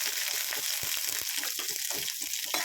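Shallots and curry leaves crackle and sizzle in hot oil for a carrot and potato poriyal, a dense busy hiss broken by light spitting pops and stirring, close up and alone.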